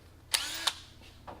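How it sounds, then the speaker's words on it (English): A power drill bores a small hole for a zip tie during work on a 2018 Mustang, with two short, sharp bursts of whirring and a fainter third burst, close and alone. "drill you a small little hole in there, whatever size zip tie you're using"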